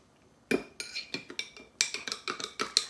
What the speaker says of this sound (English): Wait, let me stir it up a little bit.